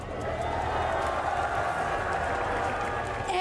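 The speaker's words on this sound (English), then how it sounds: "This crowd is absolutely electric." A packed arena crowd at a Valorant esports grand final roars in a steady, dense wash of cheering and clapping that holds at high volume throughout.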